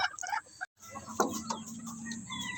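Chickens clucking near and clear while being fed hard feed, with several short calls and one drawn-out cluck over a brief stretch.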